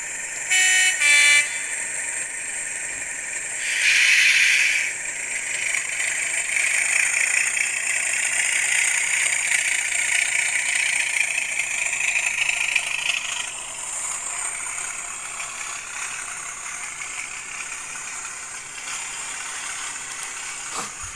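A Class 37 model diesel locomotive's sound chip drones steadily with a horn blast early on, the engine hum shifting and dropping in pitch near the end, fairly loud with no talking.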